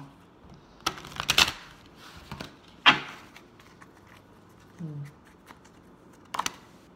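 Tarot cards are shuffled in several quick riffling bursts separated by pauses, close and crisp, with soft handling noises between.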